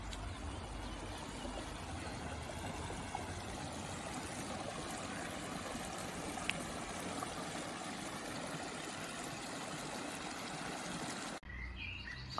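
A stream flows under a small bridge in a natural spot in the Cévennes or Ardèche, a steady, close rushing wash filling the whole stretch, with faint bird chirps above it and a brief cut near the end.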